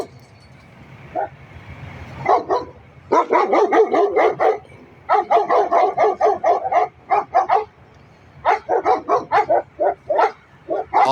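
Several rescued dogs bark in rapid, overlapping bursts, loud and close, with short pauses between volleys and a few yips mixed in.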